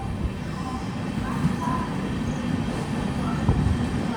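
LHB-coach Garib Rath SF Express from Secunderabad to Visakhapatnam pulling into Anakapalli station, a steady low rumble of rolling wagons close by, continuous throughout, with no talk.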